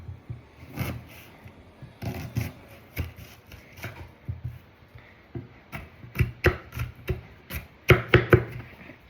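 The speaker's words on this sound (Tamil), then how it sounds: "இந்த வெங்காயம் மட்டும் கட் பண்ணுறதுக்கு காட்டிட்டு அடுத்ததுலாம் நானே கட் பண்ணிட்டு வரேன்" A knife chops onion on a cutting board in a kitchen, with irregular bursts of crisp, close taps that grow quicker and louder toward the end.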